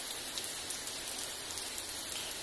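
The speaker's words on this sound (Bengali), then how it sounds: "আজকে ঘুম থেকে উঠে দেখি অনেক বৃষ্টি হইতেছে।" Heavy rain falls steadily outdoors on a morning, a dense, even hiss of drops striking surfaces at moderate loudness, without voices.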